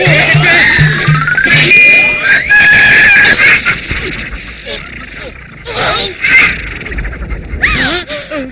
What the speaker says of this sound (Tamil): கோழி கத்துது